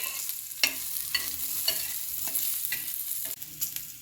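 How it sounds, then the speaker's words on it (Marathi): Coriander, ginger and garlic fry in a little oil, a steady close sizzle broken by several sharp scraping stirs of the pan, with no voices. "धने, अद्रक आणि लसूण हा छान तळून झालेला आहे"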